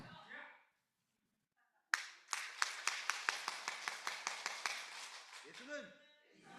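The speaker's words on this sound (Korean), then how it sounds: "자, 박수 준비" A church congregation at a worship service claps in a steady, even rhythm of about sixteen sharp beats after a brief silence, with a voice speaking before and after.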